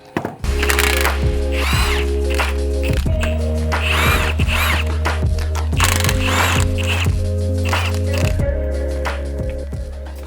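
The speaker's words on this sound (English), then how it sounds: "But I'm going to switch to our high torque impact gun just to speed it up a bit." High-torque impact gun loosening wheel hub bolts during a front hub replacement on an MK5/MK6 Volkswagen, loud and close, with repeated hammering rattles and a steady motor whine throughout.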